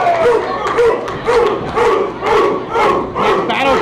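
A wrestler lets out a series of rhythmic battle cries at a pro wrestling show in Austin, loud over a noisy, cheering crowd.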